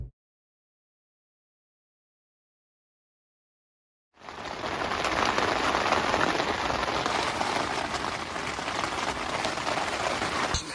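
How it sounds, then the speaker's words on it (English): Rain falls on a tent in a forest during deer hunting season, starting abruptly after silence and then drumming steadily and densely close overhead, with no voices. "The rain didn't stop all night"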